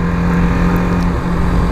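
A 2017 BMW G310R motorcycle engine and exhaust drone steadily at close range while riding, with a constant low hum and no break, nothing else heard.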